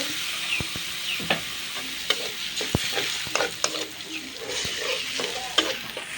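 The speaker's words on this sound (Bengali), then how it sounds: "মাছ ভাজার তেলের মধ্যে দিয়ে দিব পেঁয়াজ বাটা, জিরা বাটা" Oil sizzles steadily as onion and cumin paste fries in fish-frying oil in a pan, with scraping stirring strokes and occasional sharp clinks of a utensil against the pan.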